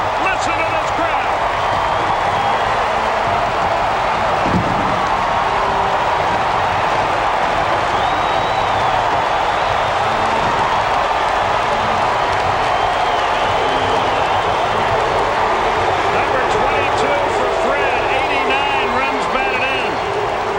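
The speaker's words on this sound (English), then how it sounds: "Listen to this crowd." Huge stadium crowd roaring in sustained celebration after a Braves walk-off home run by McGriff beats the Giants in extra innings, dense steady cheering throughout with a broadcaster's voice over it.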